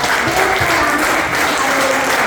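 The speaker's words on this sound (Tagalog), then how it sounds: "pwede ba po bang palakpakan ng Panginoon" A church congregation applauds in praise, a dense, loud and continuous roar of clapping filling the room without pause.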